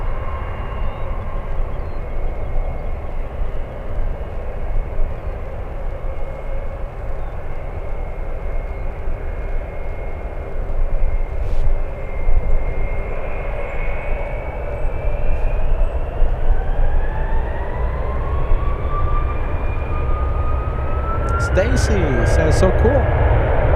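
A Boeing 747 passes at San Francisco airport, a steady rumbling jet roar holding throughout with a rising whine toward the end, while people talk over it.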